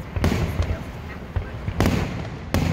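A fireworks display in Stoughton in 2019 crackles and booms, with several sharp bursts popping at mid-distance while people talk over the noise.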